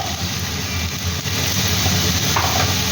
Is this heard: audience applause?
no